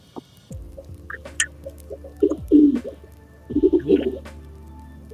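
Several pet birds, a flock of around fifteen to twenty, coo in low, rounded bursts with chirps and calls scattered between them, growing louder in two clusters midway and near the end. There is no talking.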